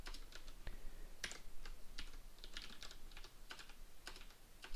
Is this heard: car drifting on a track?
no